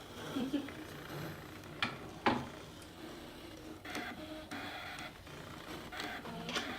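A Brother ScanNCut machine cuts cardstock with mechanical whirring and a few sharp clicks and taps, fairly near and moderately loud, with some talking over it.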